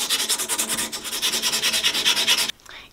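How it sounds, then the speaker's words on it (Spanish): Steady back-and-forth rubbing of wet sandpaper on oily steel, about four strokes per second, close and loud, stopping abruptly near the end. "Limpiar esta parte donde está, pues, residuos del aceite, la parte de abajo, la parte lisa, con una lija al agua"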